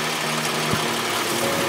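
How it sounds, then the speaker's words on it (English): Air escapes from a car tyre being let down at Salt Creek, a steady, close broadband hiss running unbroken throughout. "Just like that, you can see the air escaping."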